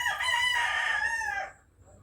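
One long, loud crow from a nearby rooster in a Filipino barangay, sustained and strong for over a second before cutting off into quiet, with no voices present.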